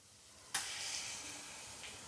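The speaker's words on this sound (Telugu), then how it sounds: "అల్లం వెల్లుల్లి పేస్ట్ నూరుకొని పెట్టుకున్నాం. కొద్దిసేపు వేయించుకుందాం." Ginger garlic paste drops into hot oil in a pan with a sudden sizzle that settles into a steady, soft frying hiss, close but quiet, with a faint stir near the end.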